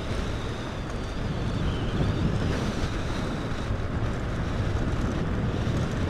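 Strong wind buffets the microphone of a vehicle travelling on the rough Mahendra Highway in Nepal, a loud, unbroken rushing roar that holds steady for several seconds with no voices.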